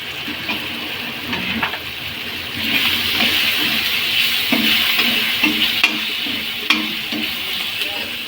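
Green peas for ghugni, drained of water, sizzle steadily in a hot pan while a spoon stirs them, with repeated close scraping strokes over the continuous frying hiss.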